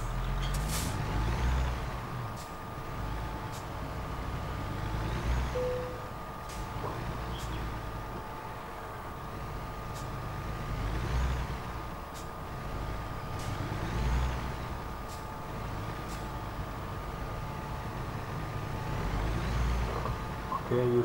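A heavy truck in American Truck Simulator runs with a steady diesel engine rumble and repeated hissing air brake bursts over about twenty seconds, close and fairly loud, with some talk in the background.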